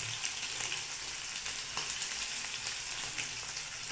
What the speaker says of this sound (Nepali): यो मासुलाई चाहिँ हामी रातो नहुन्जेलसम्मलाई चाहिँ हामी फ्राई गर्नेछौँ